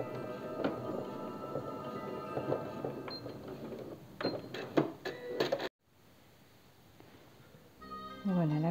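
A sewing machine stitching a Halloween bunting pennant runs in a close, busy mechanical whir with short stop-start bursts and clicks, then a soft pause before a voice talks over it.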